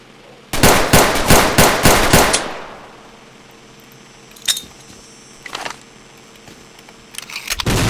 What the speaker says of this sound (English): Here, I have big machine gun.